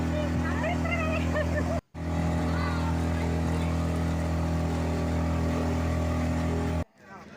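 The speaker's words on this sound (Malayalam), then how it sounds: "നമ്മളും അങ്ങനെ ബോട്ടിൽ കയറി അക്കരയ്ക്ക് പോവുകയാണ്" A passenger motorboat ferrying about seven people at a time across the water at Poovar near Thiruvananthapuram, its engine a loud, steady drone that drops out briefly near the start and again at the end, with voices over it.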